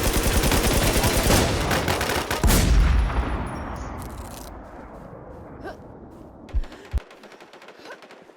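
Rapid bursts of video game gunfire, including an M107 rifle, fade into quieter rumbling, followed by a couple of sharp single shots near the end.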